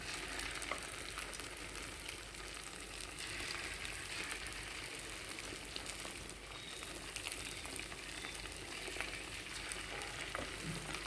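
Sago fritters (punugulu) batter frying in a pan of oil gives a soft, constant bubbling hiss, fairly faint and unbroken throughout, with no talking.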